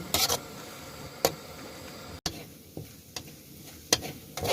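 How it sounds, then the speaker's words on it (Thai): Garlic pork stir-fried in a home wok, a steady sizzle with spatula scrapes and clanks against the pan at irregular intervals, close and fairly loud, with no talking. "เราต้องผัดเนื้อให้สุกก่อนนะคะเพื่อน"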